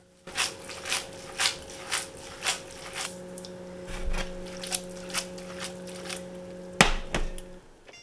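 Spaghetti alle vongole being stirred and tossed in a pan, with a steady series of sharp clacking and scraping hits, likely clam shells and utensil against the pan, over a continuous low sizzle and hum, ending in a couple of louder knocks.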